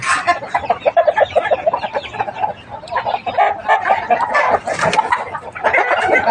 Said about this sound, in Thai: นี่พี่น้องมาดูนรินยาฟาร์มไก่ชนเงินล้าน